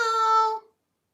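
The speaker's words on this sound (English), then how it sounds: "I've never had a cat that just screams all day." A single drawn-out, high-pitched meow, loud and close, lasting about half a second before cutting off into silence.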